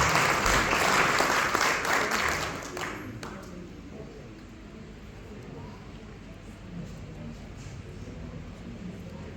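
Crowd applause at a live concert event, loud and dense clapping for the first few seconds, then fading to scattered claps and murmuring room noise.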